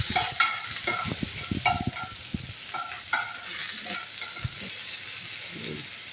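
Slit whole green chillies fry with nigella seeds in hot fat, a bright sizzling hiss with a few clattering stirs early on, fading to a softer steady fry.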